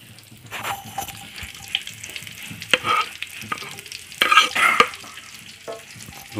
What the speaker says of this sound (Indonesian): Pertama bawangnya dulu, ya. Digoreng.